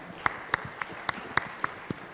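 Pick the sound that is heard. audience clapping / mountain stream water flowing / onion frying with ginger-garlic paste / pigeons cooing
audience clapping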